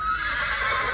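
A horse whinnies once, close and loud, in a short burst at an equestrian endurance ride venue in Jaipur during pre-ride preparations, with no talk.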